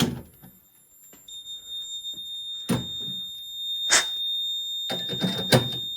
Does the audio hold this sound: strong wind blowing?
no